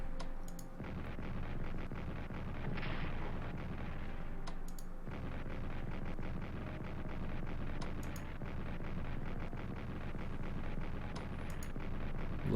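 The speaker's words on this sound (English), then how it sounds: "Looks like it will survive the artillery." Artillery fire in the strategy game Strategic Command: World War I, a dense continuous rumble of shelling with scattered sharp clicks, steady and moderately loud throughout with no voices.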